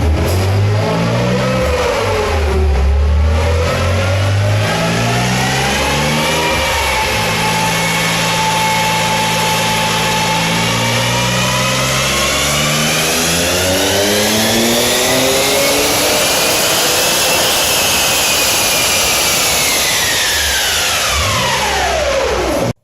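An Audi B5 S4 tuned to nearly 400 wheel horsepower, with side-mount intercoolers on 94 octane, roars loudly through a dyno pull, its pitch climbing steadily through the gears before winding up at the end.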